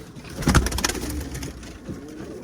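Pigeons, some with taped wings, being released from an office coop to the outside, giving soft coos and wing flutters with a brief louder burst of flapping near the start, then quieter rustling.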